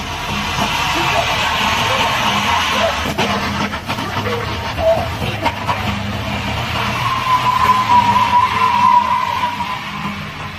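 A car skidding hard with tires squealing under heavy braking, a loud continuous screech and roar that holds steady for about ten seconds.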